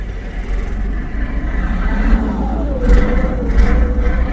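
A warm engine of a vintage vehicle at a Scone Palace vintage vehicle event, already running loud and close, with a steady low rumble that rises and swells in a couple of revs.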